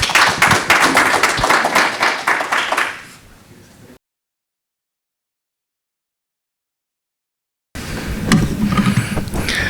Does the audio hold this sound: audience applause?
yes